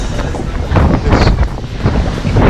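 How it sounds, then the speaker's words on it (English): Strong wind buffets the microphone on the open upper deck of the cruise ship Norwegian Gem near the jogging track, loud gusty rumbling with whooshing swells and no voices. "it's very windy out here"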